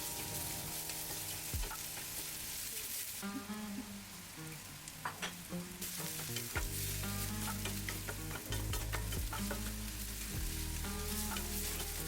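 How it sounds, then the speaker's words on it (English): Chopped onions sauteing slowly in a pan for dal tadka, a soft continuous sizzle with frequent stirring clinks and scrapes from a utensil, quiet and close, no talk. "Add in those chopped onions now and then saute slowly till the onions become nice and soft"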